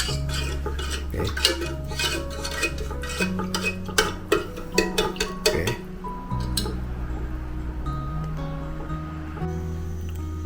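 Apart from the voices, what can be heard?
stirring cake batter in a bowl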